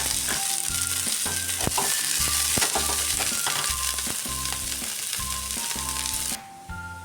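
Mustard seeds, onion and curry leaves fry in hot coconut oil for a Kerala-style crab curry, giving a steady close sizzle with bright crackle under background music that stops near the end.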